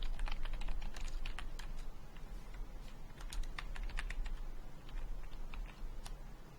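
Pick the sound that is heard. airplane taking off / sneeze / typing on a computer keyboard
typing on a computer keyboard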